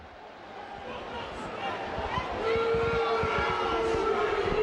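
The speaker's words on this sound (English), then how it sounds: "And the hooter goes" At a rugby league match between Leigh and Widnes, the end-of-game hooter sounds as a sustained steady tone rising over a loud crowd roar, with commentary talking over it.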